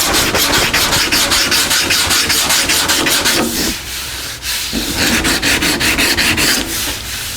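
Hand sanding body filler on a car panel with 80 grit sandpaper, loud close rasping strokes in a fast back-and-forth rhythm with a short pause midway, no talk.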